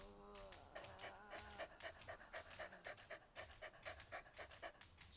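A dog pants in rapid, rhythmic breaths inside the Goosebumps Night of Scares video game, close and steady for several seconds, with a brief whimpering tone near the start.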